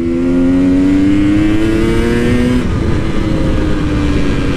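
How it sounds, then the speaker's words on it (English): KTM 300 EXC two-stroke dirt bike engine revving loudly and steadily, pitch climbing slightly then settling as the rider goes through the gears, close and continuous with no talk. "the KTM, especially the two strokes, never fail to bring enjoyment in rides"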